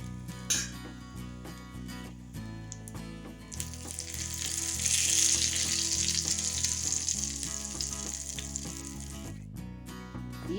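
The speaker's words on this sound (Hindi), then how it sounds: "ये मैंने घी में साबुत लाल मिर्च भून ली है।" Whole red chillies sizzling in hot ghee for a dal tadka, with Kashmiri red chilli powder stirred in. The steady frying hiss swells in the middle, under continuous background music.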